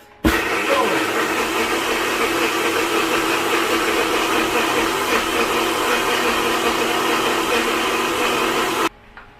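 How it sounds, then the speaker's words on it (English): A high-speed 1000-watt Ninja blender runs for about nine seconds, a loud, steady whirring roar that begins abruptly and cuts off sharply near the end, with no voices over it. "We're using a high-speed 1000 watt Ninja."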